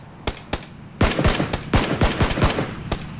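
Gunfire from the video game PUBG: a few single shots, then a rapid burst of sharp, loud cracks in quick succession, ending with a final isolated shot.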